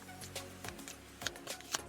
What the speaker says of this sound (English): I have cards in my hand and I am shuffling them